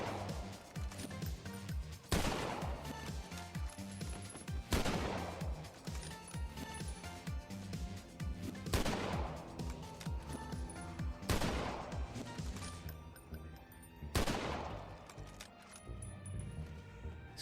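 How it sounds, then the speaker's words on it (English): In The Walking Dead: Survival Instinct, a handful of single gunshots ring out about every two to three seconds, each a sharp crack with a ringing tail, over steady game music and ambience. "there's also guns which are lame and noisy and not fun to shoot"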